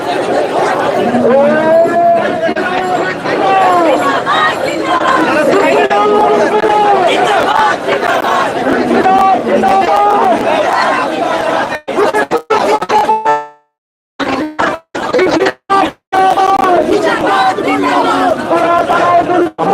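Large protest march crowd in Dhaka moving from Shahbag toward the Central Shaheed Minar, a dense continuous roar of many voices chanting and shouting, loud and close, breaking into short gaps near the end.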